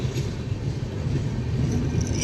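Kolkata Jammu Tawi Express standing at Dankuni junction, a steady low rumble and hiss of the train and station surroundings, continuous and moderately loud without speech.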